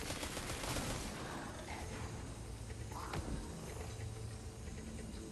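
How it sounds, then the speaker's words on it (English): Rapid gunfire in Destiny 2 shooting out vents set in a wall, dense bursts of shots filling the clip with game effects and action noise throughout. "I'm going to shoot those out"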